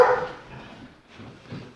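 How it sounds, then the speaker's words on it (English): Several dogs moving around indoors, one sharp bark up close at the start, then soft shuffling and faint yips fading in and out. "You'll have to excuse the dogs, there's 7 of them bundling around."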